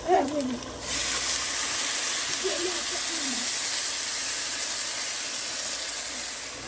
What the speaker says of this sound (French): Donc on va ajouter maintenant l'eau avec du sel.